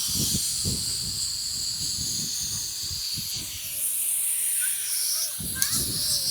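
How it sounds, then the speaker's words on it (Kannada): A pressure cooker hisses steadily in a home kitchen while masala puri is being made, a broad, continuous rushing sound that runs under people talking nearby. "ಕುಕ್ಕರ್ ಸೌಂಡ್ ಹೊಡೆಯೋದು ಎಲ್ಲರಿಗೂ ಕೇಳಿಸ್ತಾ ಇದೆ"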